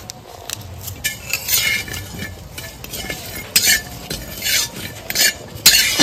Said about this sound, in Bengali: তো তার আগে কটা শুকনো খোলায় জিরে ভেজে নেব।